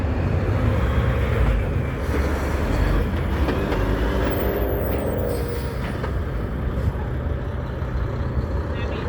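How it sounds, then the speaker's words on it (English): A MARTA Gold Line train pulls into West End station with a loud, continuous rumble and rattling wheels, steady throughout, while speech is heard under the noise. "The next train coming now is a Gold Line train heading to West End."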